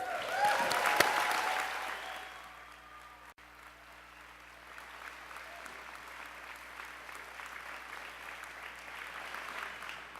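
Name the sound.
applause for the graduates at commencement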